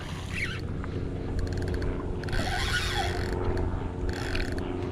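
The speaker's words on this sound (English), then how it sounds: "There's that drag a little bit now that I've loosened up." A fishing reel's loosened drag clicks in rapid ratcheting bursts while fishing cut bait for redfish under mangroves, the clicks coming in several short runs over steady outdoor background noise.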